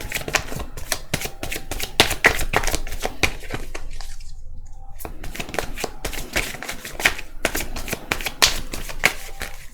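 A deck of cards is shuffled close by in a run of crisp riffling flutters and taps, pausing briefly midway before resuming.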